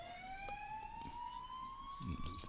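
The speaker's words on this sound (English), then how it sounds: "Sirens going around the ground" An emergency siren wails steadily nearby, its pitch slowly rising, audible around a cricket ground during a night T10 match in Portugal, with faint crowd and background noise underneath.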